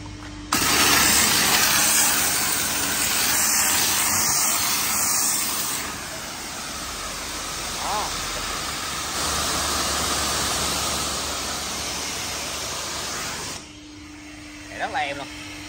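An Interpump 200 bar, 15 L/min pressure washer pump driven by a 5.5 kW motor, rigged for touchless car washing, gives off a steady motor hum and a hissing spray for over ten seconds, with a faint voice briefly near the end.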